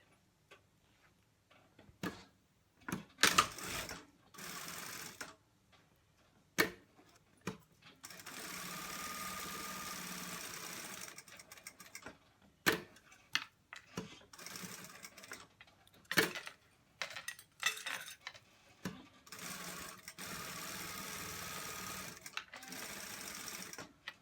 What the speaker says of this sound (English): Now I'm going to sew with my foot width down the side of the teeth.